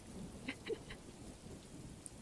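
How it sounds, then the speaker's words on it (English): Steady rain patters softly in the background, a faint continuous wash with a few small drops or taps standing out, no voices. "the rain sound is kind of distracting me"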